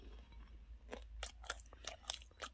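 Close, crisp chewing of a ramen-coated hot dog, a string of irregular crunchy bites and mouth sounds over a low steady hum, no talking.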